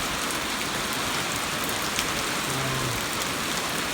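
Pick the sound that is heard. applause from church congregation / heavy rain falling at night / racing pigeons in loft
heavy rain falling at night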